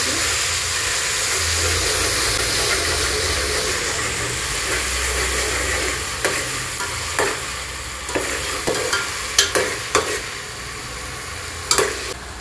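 Ginger-garlic paste sautés in a pot for one-pot veg pulao, giving a loud, continuous hissing sizzle that later gives way to sharp, intermittent clicks and taps of a stirring spoon.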